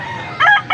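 A bull stag rooster at a rainy gamefowl market in Angeles, Pampanga gives a short, loud crow, cut off quickly and followed by the start of another, close to the listener.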